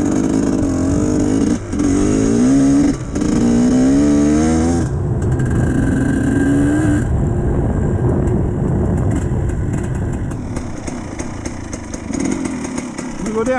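A GPX TSE 300 two-stroke motorcycle engine buzzes and revs nearby, rising and wavering through the clip, with voices talking over it during the first few seconds.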